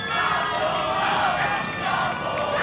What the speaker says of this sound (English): they're gonna do their cheer, their hilarious cheer